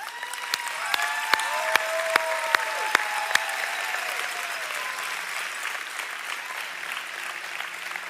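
Audience clapping at a church home night gathering, a broad rush of many hands with a few sharp, close claps cutting through early on, with voices calling out over it before it gradually thins.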